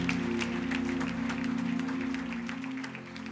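A church congregation applauds Jesus during a service, a dense, steady wash of clapping from a crowd, filling the space with no clear talk over it.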